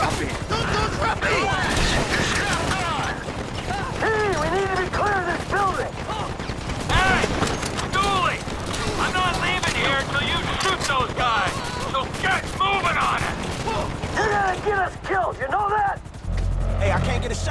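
Gunfire from shooters across a street in GTA 5 crackles in steady bursts for the whole stretch, mixed with loud, frantic shouting voices and a heavy rumble of background action.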